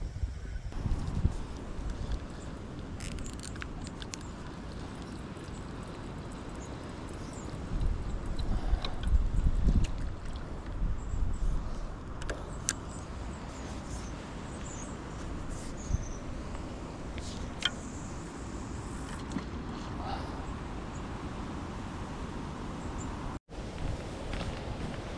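Strong coastal wind gusting hard at a pike fishing spot, a steady broad roar with rising buffets and microphone rumble throughout, no voices.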